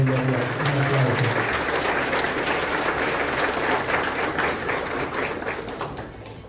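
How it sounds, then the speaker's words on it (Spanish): An audience at a provincial government accountability event applauds in a loud, dense wave of clapping that starts over a brief voice and slowly fades toward the end. "Un aplauso."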